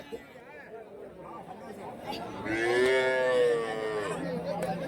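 Young suckling calves low at the Karimangalam cattle market in Dharmapuri district, one drawn-out moo rising loud and near over a steady murmur of chatter and people talking.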